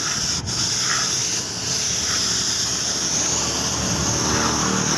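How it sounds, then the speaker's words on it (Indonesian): A spray gun hisses steadily and closely as paint is applied to a motorcycle exhaust cover at a roadside paint job, with a continuous airy wash and faint rhythmic swells. "kita semprot juga ini bagian tutup knalpot ini"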